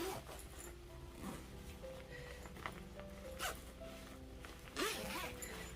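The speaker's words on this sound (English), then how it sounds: "So after you put them in, they have this compression zipper." A compression zipper on a Gonex packing cube is drawn along in several short, raspy pulls, close up, with a faint whimper-like sound in the background.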